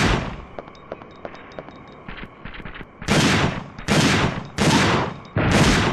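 Gunfire aimed at dinosaurs in the PlayStation game Dino Crisis 2, starting with rapid light shots and then giving way to loud, long bursts of heavy automatic fire with short gaps between them.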